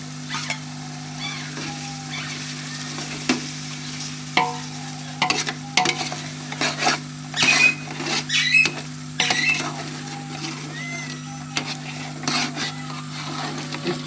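Ginger garlic paste sizzling and frying in a hot pan for a beef pulao, with a spoon stirring and scraping in irregular bursts over a steady background hum.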